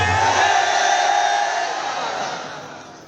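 Political rally crowd in Khipro, Sindh, roaring a slogan together: a loud, dense wall of chanting voices that starts strong and gradually fades over a few seconds.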